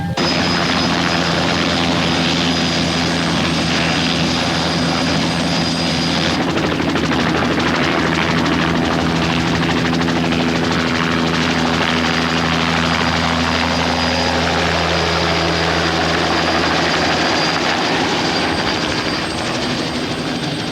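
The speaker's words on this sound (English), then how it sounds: "Overhead in Chopper 5, Miranda Dunn" A news helicopter over the San Francisco area drones steadily overhead, loud and continuous, with its rotor thrum and engine whine changing slightly partway through.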